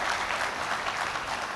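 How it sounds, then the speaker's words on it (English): Audience at a university lecture applauds, a brief burst of many hands clapping at steady loudness throughout the short moment. "Can we give them a round of applause?"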